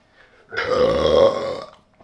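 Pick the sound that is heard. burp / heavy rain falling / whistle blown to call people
burp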